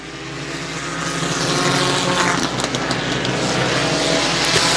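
Dirt modified race cars roar around a speedway, their engines building from a rising pack drone into a loud, sustained, rasping howl as several cars pass close by, with no talking.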